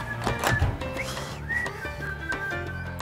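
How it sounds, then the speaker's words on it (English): A person whistles to call pigeons in a loft at feeding time, giving a few short, thin whistled notes in a fairly quiet setting. "I can't whistle well."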